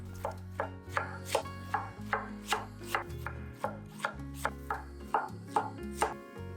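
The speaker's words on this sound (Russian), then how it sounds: "Капусту тонко шинкуем." A knife thinly shreds half a head of cabbage on a board, about a dozen crisp, evenly paced chops over a soft background hum, close and clear with no talking.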